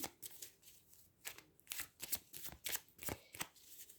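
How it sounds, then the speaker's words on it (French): Tarot cards are shuffled by hand close up, a quiet, irregular series of soft riffling and slapping flutters with brief pauses, with no talking. "Je vais battre les cartes."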